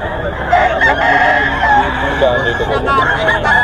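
A Boston Sweater stag rooster crows and clucks up close, set against a busy market din where people talk throughout.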